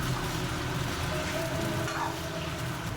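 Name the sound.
frog meat deep-frying in oil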